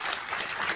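Audience applause at a live stand-up comedy show, a dense, steady wash of many hands clapping close by and filling the whole brief moment without pause, no voices standing out.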